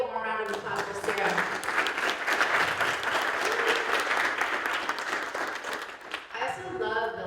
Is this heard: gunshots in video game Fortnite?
no